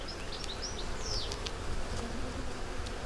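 Honey bees buzz in a low, continuous drone during a hive inspection, with a few individual bees whining louder as they fly close past, and no talking.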